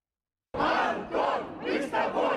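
A crowd of pro-Russian protesters shouts demands in unison for the release of Anton Davydchenko, loud rhythmic chanting that starts abruptly after a short silence and comes in about three surging bursts.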